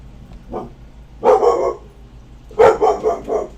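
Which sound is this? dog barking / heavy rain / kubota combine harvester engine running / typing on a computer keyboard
dog barking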